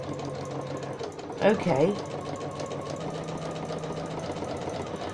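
A sewing machine stitching a zigzag seam on a dolly dress peg bag, a steady soft mechanical whir and rapid needle patter running throughout, with a short spoken word partway through.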